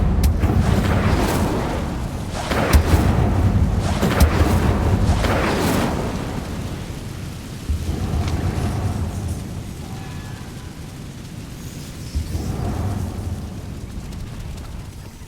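An Incendio fire spell in a Harry Potter video game, heard as several heavy, rumbling fiery bursts that swell and fade, loud and close, the later blasts somewhat weaker.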